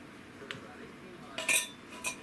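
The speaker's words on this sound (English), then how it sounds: "take your drained sliced beets and empty the whole can into your saucepan" Drained canned sliced beets are tipped into a saucepan for orange glazed beets, making a few light metallic clinks and scrapes against the pan, with a louder cluster of clatter near the end, all fairly quiet with no talking.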